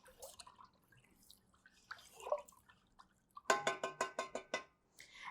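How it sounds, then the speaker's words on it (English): A pot of water boiling on a home stove while pasta is cooked, heard as faint background bubbling at first and then a quick, regular run of sharp tapping pops up close. "I can hear my water boiling over there"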